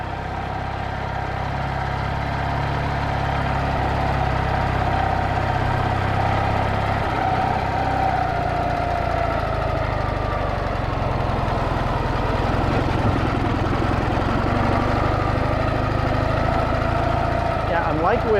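A 1995 Ural Tourist sidecar motorcycle rolls in reverse on its mechanical reverse gear, the engine a steady low rumbling idle that runs the whole time beneath a voice talking.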